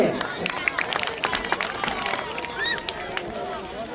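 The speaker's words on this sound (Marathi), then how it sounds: "दुसऱ्या पंचायत समितीचे जरी विद्यार्थी असेल तरी सर्वांनी टाळ्या वाजवायचे।" An audience claps at a school athletics prize ceremony in Buldhana district. The claps are scattered and uneven, mixed with outdoor crowd chatter, children's voices and occasional whistle-like squeals, at a moderate level.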